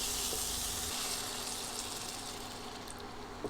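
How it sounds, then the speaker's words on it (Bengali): Fried potatoes hit an egg curry masala of ginger-garlic paste with a little water, setting off a steady, close sizzle that eases slightly toward the end, with a faint stir or scrape, no voices. "এইবার ভাজা আলুগুলো এতে দিয়ে দেব।"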